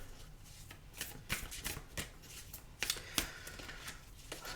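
Oracle cards are shuffled close up, with rapid papery riffles and soft slaps repeating irregularly in a quiet room.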